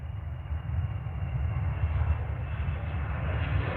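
An EasyJet airliner at Manchester Airport, its engines giving a steady, dense low roar that holds at a constant level throughout, heard from a distance without any talking.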